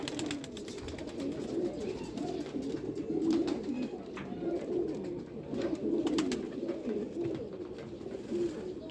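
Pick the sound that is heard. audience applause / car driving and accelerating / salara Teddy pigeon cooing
salara Teddy pigeon cooing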